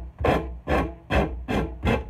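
Five rhythmic rasp strokes as a file bevels the end of a wooden axe handle on a cruiser axe, each pass a loud, close, scratchy burst with brief pauses between, no talking.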